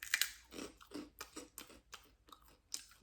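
Close, crisp crunching of stale, seasoned Irish snack chips being chewed, with a loud first bite and then about eight rhythmic crunches spaced evenly, with no talk.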